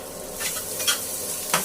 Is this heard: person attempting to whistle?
no